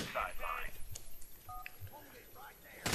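Telephone keypad tones dialing a number in GTA IV, a few short beeps heard faintly under game sounds and a voice talking.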